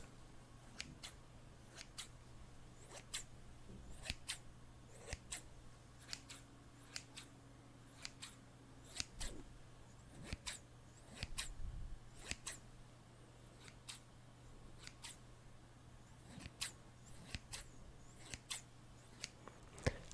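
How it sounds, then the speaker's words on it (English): Scissors snip repeatedly in sharp, close clicks, irregularly spaced over a quiet room hum, with no talking. "Next we have scissor sounds."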